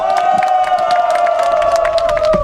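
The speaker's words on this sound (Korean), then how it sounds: "우리 정세계 총리님께 다시 한번 큰 박수 부탁드립니다" A crowd at an outdoor election campaign rally cheers and claps for Prime Minister Chung Sye-kyun, a loud, unbroken roar with a steady droning tone running through it.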